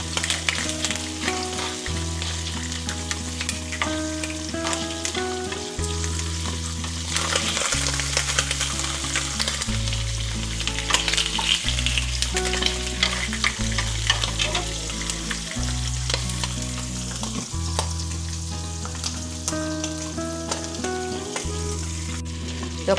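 Abalone pan-grills in butter with a steady, crackling sizzle and occasional stirring scrapes, heard alongside continuous music.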